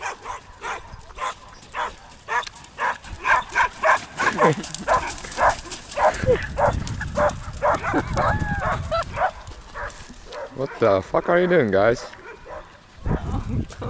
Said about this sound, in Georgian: ეხა ძაღლები თუ გამოგვეკიდნენ.